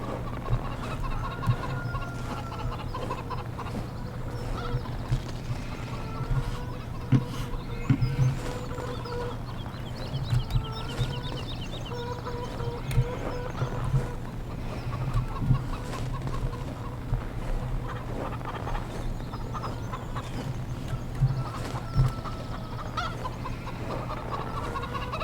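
Chickens in Farming Simulator 17 cluck and murmur continuously at close range, scattered soft clucks over a steady low hum, with snow on the ground and no talking.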